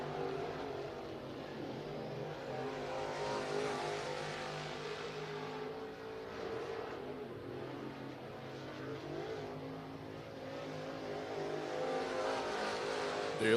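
Race cars running laps at I-75 Raceway in Niota, Tennessee, a steady, continuous engine roar from several cars at middle distance, swelling and fading slightly as they pass, with no break across the stretch.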